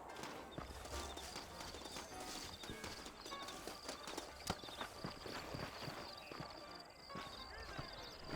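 Horse hooves clip-clop at a steady walking rhythm in a Red Dead Redemption scene, several horses close by, with a faint continuous ambient bed and occasional louder hoof strikes.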